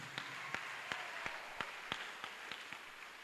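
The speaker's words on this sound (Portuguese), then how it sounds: "dá uma salva de palmas aí para Jesus" A church congregation claps for Jesus in faint, sparse, irregular hand claps that sound distant, with no voices heard.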